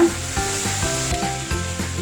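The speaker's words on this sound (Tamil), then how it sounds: "நல்லா தண்ணி கொதிக்குதுங்க." Water boils in a pot for Coimbatore-style rice and lentil rice, with a steady, fairly loud bubbling and hissing throughout and no voices.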